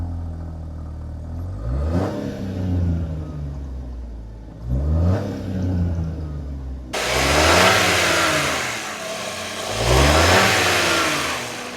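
A 1.3-liter turbocharged three-cylinder engine in a Chevy Trailblazer revs up four times in close succession, each rise sharp and loud before dropping back toward idle, the last two bursts rougher and louder.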